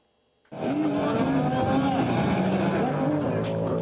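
Off-road survival race cars roar through mud at a race in Kryvyi Rih, with loud engines bursting in after a short quiet start and revving continuously.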